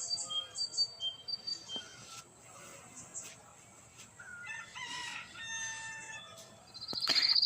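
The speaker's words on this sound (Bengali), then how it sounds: "তো আবার মুরগির বাচ্চাগুলোকেও ছেড়ে দিয়েছি" Chickens cluck and peep softly at a distance, with other small birds chirping and a rooster crowing loudly near the end.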